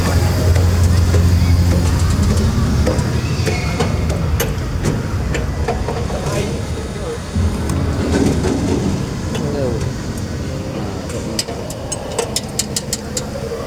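Train pulling into a station: a heavy low rumble of engine and rolling wagons, loud and close, with people chatting over it and faint metallic squeals toward the end.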